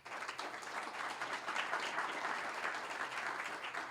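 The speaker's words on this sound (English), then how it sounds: "give a nice warm round of applause for our" An audience applauds competition finalists at a regional idea pitch event, a steady, dense wash of clapping that holds evenly throughout, full and sustained without a break.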